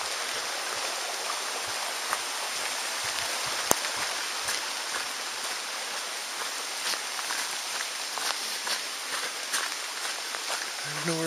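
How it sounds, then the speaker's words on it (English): Steady rain patters down without pause at a lakeside lodge, a dense wash of droplets close by, with a few scattered louder drips. "It's a rainy day at Northwind Lodge."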